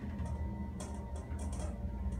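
Motor of a 1992 Amtech hydraulic elevator in an apartment building running as a steady low hum and drone, with faint intermittent clicks and rattles over it and no talk.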